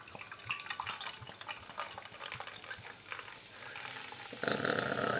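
Cantillon Gueuze lambic beer is poured into an Orval glass, first a fizzing, bubbling trickle with faint clinks, then a louder rushing glug of liquid near the end.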